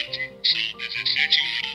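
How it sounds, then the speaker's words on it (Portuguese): A talking alarm clock plays a quick run of chirpy, squawking electronic tones in a bouncy pattern, close and fairly quiet. "Esse é o alarme."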